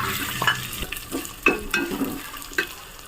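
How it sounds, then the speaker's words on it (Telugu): Dried red chillies fry in hot oil for a Gongura dried prawn curry, a close, steady crackling sizzle broken by several sharp stirring scrapes and clinks of a spoon against the pan. "ఎండుమిర్చి ఇప్పుడే వేసుకోవాలి"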